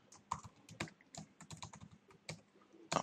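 Keys clacking on a computer keyboard, an irregular run of quick close taps with short pauses between bursts, fairly quiet with no voices.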